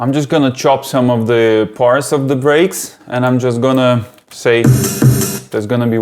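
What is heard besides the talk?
None of the usual background noises is heard.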